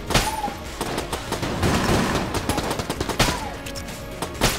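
Machine gun fire in the Enter the Gungeon video game: rapid bursts of gunfire crackle in clusters over busy game sound, fairly quiet and sustained across the few seconds.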